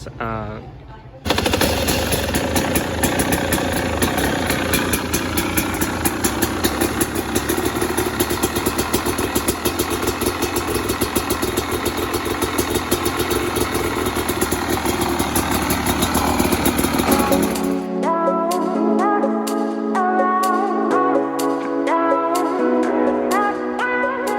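A KTN 300 Chinese dirt bike engine fires up after a brief start and settles into a loud, steady, rapid-pulsing idle that runs for about sixteen seconds, then cuts off abruptly to leave a few short background sounds.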